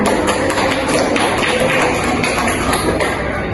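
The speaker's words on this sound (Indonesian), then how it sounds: "Tepuk tangan." A classroom of pupils claps hands together during a microteaching lesson, a dense, fairly loud patter of many overlapping claps held steady for several seconds with no talking.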